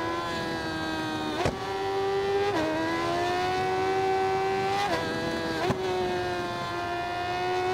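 Racing motorcycle engine on a track, a high steady whine holding at speed with sharp clicks of gear changes every second or two, loud and sustained, no talking.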